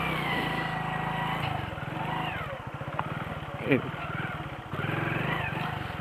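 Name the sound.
motorcycle engine running in first gear with half clutch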